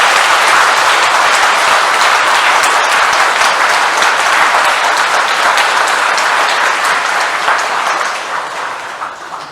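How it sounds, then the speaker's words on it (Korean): A church congregation applauding in welcome during a new priest's first Mass, a loud, dense and sustained burst of many hands that carries for nearly ten seconds before easing off at the end. "환영의 박수를 보냅니다."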